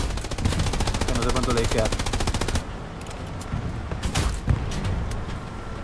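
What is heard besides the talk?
machine gun fire in the video game Hell Let Loose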